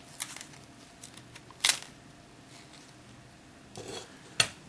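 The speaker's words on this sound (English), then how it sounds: "So we're just going to grip the bottom here and just flip it out like this." Back case of a Nikon Coolpix S220 compact camera being gripped at the bottom and pried off, heard as a few sharp plastic clicks and snaps spaced apart against a quiet background.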